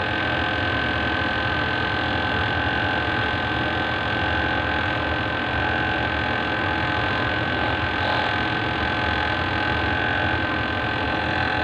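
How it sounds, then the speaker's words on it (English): A vortex mixer whirls a soil sample in a lab, giving a steady, unbroken electric hum and buzz that holds at an even level throughout. "we need to mix it very well by using this vortex mixer"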